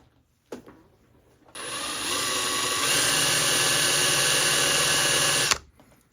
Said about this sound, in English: So I'll just start by drilling a hole right in this area on this flywheel.